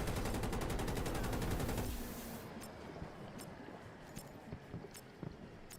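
Rapid automatic gunfire in Battlefield 2042 rattles out in a dense, loud burst for about two seconds, then breaks into scattered, sharper single shots that continue more faintly.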